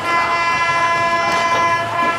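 The 12303 Poorva Express from Howrah to Jasidih rolls along steadily, its loud sustained horn blaring over the continuous rumble of the moving train.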